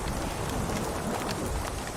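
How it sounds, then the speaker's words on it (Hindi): Heavy rain falling, a dense, steady hiss of drops that fills the whole stretch without pause. It is loud and close, with no voices. "लगता है बारिश और तेज होने वाली है"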